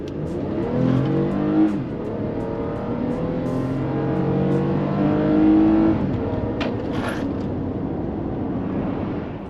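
A car pulling out and accelerating, its engine loud and close, rising through the revs with a shift and a second surge of throttle before easing into a steady drone.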